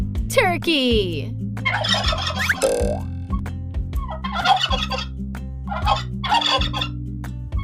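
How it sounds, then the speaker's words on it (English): A turkey gobbles in several rapid, warbling bursts, clear and close, spread over a bouncy background music track with a brief spoken word at the start. "Turkey."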